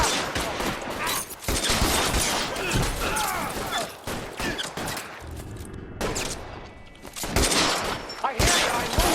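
Gunfire in L.A. Noire erupts in loud, rapid volleys of shots across several bursts, with a brief lull midway before heavy firing resumes.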